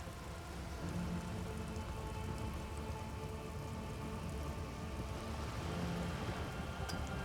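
Steady rain ambience from the video game Disco Elysium, a constant even hiss of falling rain at moderate level throughout, with no voices over it.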